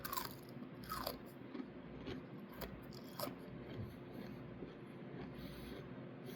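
Crispy cereal crunched and chewed close to the mic, with several sharp crunchy bites early on that settle into steady, softer chewing over a low background rumble.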